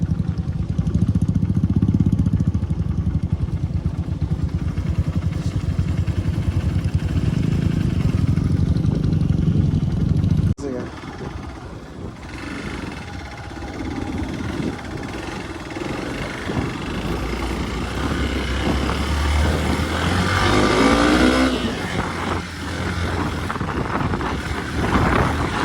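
A motorcycle engine revs hard and steadily on a dusty mountain track near the India–China border as bikes get stuck, loud and continuous, with the pitch shifting midway and no talk.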